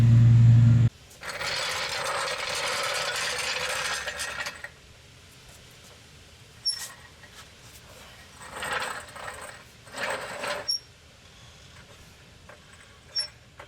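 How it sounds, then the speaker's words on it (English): A ratchet loosening the motor mount bolts on a Toyota MR2, heard as several bursts of rapid metallic clicking, one long and a few shorter ones, close up with quiet pauses and faint clinks between. "now I'm going to start loosening the bolts"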